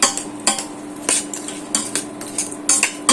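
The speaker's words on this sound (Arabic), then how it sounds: "بدنا نقلب شوي لحتى تبلش تتهوس معي منيح" A spoon stirs Maggi cubes in a metal pot, making repeated sharp clinks and scrapes against the pot in an irregular rhythm, close and fairly loud, with no talking.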